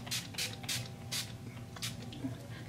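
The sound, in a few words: spraying NYX Matte Finish setting spray on face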